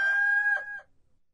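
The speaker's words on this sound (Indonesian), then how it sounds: "Maka Petrus menyangkalnya pula, dan ketika itu berkokoklah ayam." A single rooster crow rings out clearly for under a second and then fades into silence. It is heard alone, with no voices, as part of a worship rendering of John 18.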